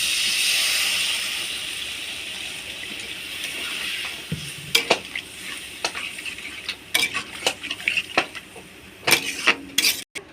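Potatoes sautéing in a hot pan, with a steady sizzling hiss followed by repeated scraping and clinking stirring strokes that grow louder and irregular toward the end.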